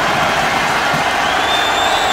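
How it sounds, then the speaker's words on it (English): Football stadium crowd at an NFL game roaring and cheering steadily before a third-down play, a dense continuous wall of noise throughout. "This crowd revving up."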